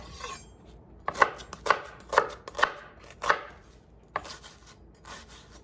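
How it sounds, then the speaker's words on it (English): A knife chopping through a small onion on a board, about seven sharp, close thuds at an uneven rhythm over a quiet background, with no talk. "I like to cut that in half and keep that root end on there."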